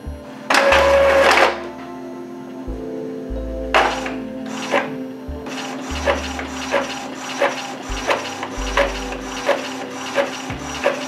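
An Epson EcoTank L3200-series inkjet printer makes a color copy, with a loud whirring scan pass followed by repeated rhythmic mechanical clicks and low motor hums as paper feeds and the print head shuttles.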